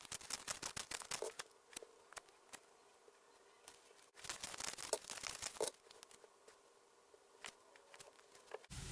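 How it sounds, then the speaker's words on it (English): Tarot cards shuffled by hand produce quick, crisp riffling clicks and slaps in irregular bursts, close and fairly quiet, with no voices. "So I'm going to shuffle some more cards"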